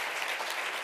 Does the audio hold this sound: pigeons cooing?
no